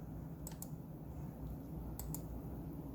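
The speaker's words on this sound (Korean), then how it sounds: "다시 시작을 하면서 F12 키를 연타를 해서 부팅 디바이스 목록을 나타나게 하도록" The F12 key of a Lenovo laptop is tapped during a restart in pairs of quick, faint clicks, one pair early and another about a second and a half later, over a steady low hum.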